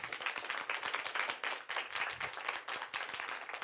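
An audience applauds at the end of a diversity lecture, with dense, steady clapping that stays fairly loud and even for the whole stretch and no voices over it.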